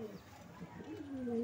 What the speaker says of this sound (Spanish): Yo voy ahí para pasar ahí al palomar para que nos enseñen los palomos